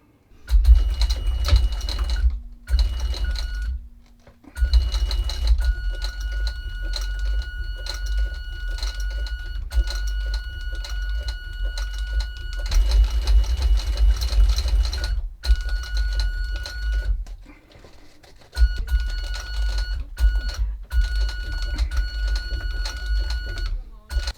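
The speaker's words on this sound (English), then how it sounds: "So I can sew this now and get it sewn, to get those seams on the outside here sewn" A sewing machine stitches a shoe upper's lining in a workshop, running in several steady bursts separated by short pauses, with a high electrical whine during the runs.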